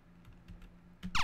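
Arrow keys on a computer keyboard are tapped during play of the game Hero Core, a few soft clicks followed by a louder quick cluster of presses near the end.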